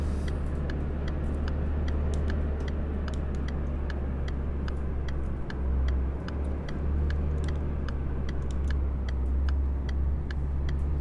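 A Volkswagen Golf GTI 7 hot hatchback drives through a city in the City Car Driving game. Its engine gives a steady low drone, and a regular quick ticking runs through the whole drive, with no talking.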